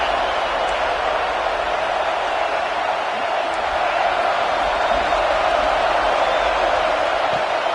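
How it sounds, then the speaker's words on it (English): A football stadium crowd cheers on its defense on fourth down, a dense, steady roar of many voices that holds at the same loud level throughout. "this crowd trying to help this defense rise to the occasion"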